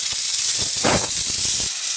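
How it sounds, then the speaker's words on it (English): A steady, loud hiss of steam sprays continuously from a Chief Steamer 100 PSI steamer brush, with a brief stronger burst in the middle and no talking. "If we spray steam into the atmosphere"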